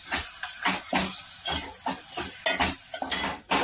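Potato kachori filling with green chutney and coriander stirred in a pan: quick, rhythmic spoon scrapes over a soft sizzle, close and continuous, with no talk.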